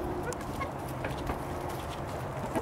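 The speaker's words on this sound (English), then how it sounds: "I've got 9 chickens here." A flock of nine backyard chickens clucks steadily while feeding on barley fodder, a dense, continuous murmur of close hen sounds.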